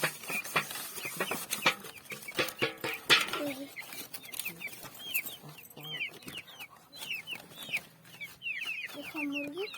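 Sick, feverish chickens cluck repeatedly in short bursts close by, with scattered clatter and brief voices mixed in.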